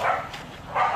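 Two short dog barks, one at the start and one near the end, fairly close and loud, with a quiet gap between them.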